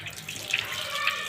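Hot water running from a household tap, a steady close hiss and splash that continues through the short clip without talk.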